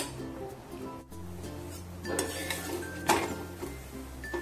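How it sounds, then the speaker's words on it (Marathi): A chapati on a hot cooking pan is flipped, bringing close clinks and scrapes of utensil on metal over a steady low kitchen hum, with a sharper clatter near the middle; no one speaks. "आपण उलटून घेऊया."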